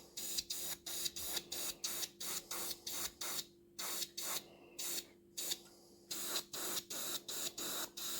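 Short repeated bursts of airbrush spray lay a light dust coat of paint on a scale model of the aircraft carrier HMS Queen Elizabeth, each hiss starting and stopping in a steady rhythm with brief pauses, close and fairly loud.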